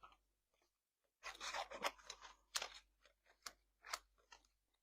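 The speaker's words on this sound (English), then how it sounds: "I'm going to cut both of these out by hand." Scissors snip through paper card by hand in a quiet room, a burst of quick close cuts followed by several separate, sharper snips.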